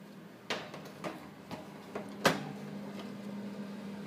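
A cake pan goes into a home oven: a handful of light knocks and clunks, with a louder bump as the pan lands on the rack, set over a steady low hum, close and with no one talking.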